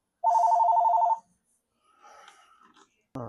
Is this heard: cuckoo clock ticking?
no